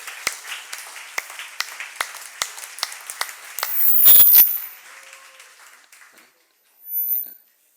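Scattered audience clapping at a church conference session, a crowd of hands beating in an uneven, thinning rhythm, then a louder burst of mixed crowd noise and a brief swell near the end.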